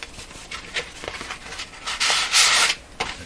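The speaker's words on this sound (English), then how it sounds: "I've been thinking about how to grind down the outer edge and not get into trouble doing it." Edge of a metal dial plate from a Philco 38-C7 tube radio is ground down by hand, giving close, loud rasping strokes in an uneven rhythm, with a longer stroke near the end and no talking.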